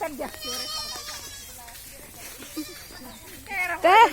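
A person talks while goats bleat faintly in the background, then one louder, quavering bleat rings out close at the end.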